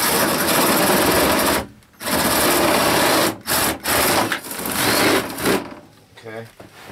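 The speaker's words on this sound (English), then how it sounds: "So it's not a big drill bit, but I want to do that." A battery power drill with a small bit bores a quick hole, whirring loudly and steadily in bursts broken by short pauses, close to the mic.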